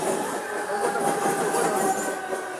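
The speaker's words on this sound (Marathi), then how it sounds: "पण ट्रेन येत आहे" The Netravati Express train arriving at a station rumbles steadily nearby with a continuous mechanical drone and faint rattling of cars, no voices.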